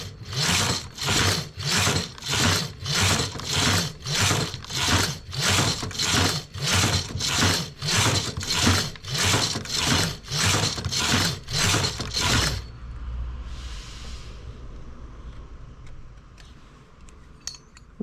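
Knitting machine carriage swept back and forth with a weight hung on the work, a rapid, even run of loud mechanical rasping passes close by, followed by quieter clicks and handling once the passes end.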